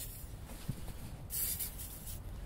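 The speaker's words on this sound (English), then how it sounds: "All we're going to do is spray a little bit" A short hiss of aerosol cleaner sprayed onto a towel while cleaning a Jeep TJ gauge cluster, one brief burst partway through over faint background noise.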